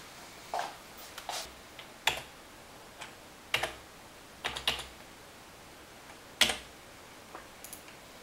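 Computer keyboard typing as a name and password are entered while setting up a Belkin N150 wireless router: scattered single key clicks and short bursts of a few keys, crisp and close against a quiet room.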